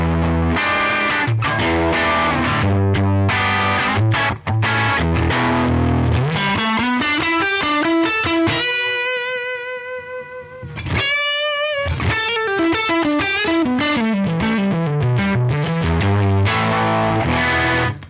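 Fuzzy, heavily distorted guitar from a Line 6 Helix Ventoux amp model with high depth and presence settings plays sustained chords and sliding notes, loud and continuous, with a short bend and pause midway.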